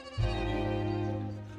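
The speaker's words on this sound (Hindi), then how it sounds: "तेरी बकरी का बच्चा दरख्त पर चढ़ गया" A young goat kid stuck up in a tree lets out a single drawn-out, nasal bleat lasting just over a second, clear and close.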